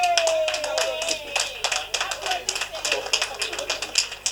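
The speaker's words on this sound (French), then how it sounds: "Moi-même j'applaudis." A single pair of hands claps in a quick, uneven rhythm, close and fairly loud, against a faint steady background hum.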